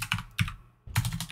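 Quick bursts of keystrokes on a computer keyboard while recording a Vim macro: two short clusters of close taps, a brief pause, then a denser run of typing, with no talking.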